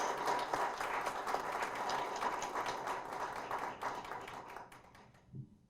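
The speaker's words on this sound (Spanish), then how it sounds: "Pido a todos ustedes un fuerte aplauso a nuestros distinguidos invitados." At a financial services forum, an audience applauds distinguished guests with a faint, dense patter of many clapping hands that gradually thins and fades out near the end.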